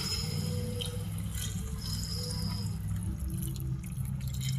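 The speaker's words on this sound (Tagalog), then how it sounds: "Tapos lalagay na natin ang kakang gata." Thick coconut cream (kakang gata) poured into a pot of simmering squash, smoked fish and moringa leaves, making a steady, close liquid splashing and bubbling that runs unbroken from start to finish.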